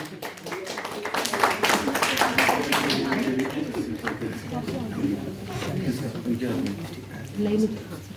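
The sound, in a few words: applause for the quiz's second-place winner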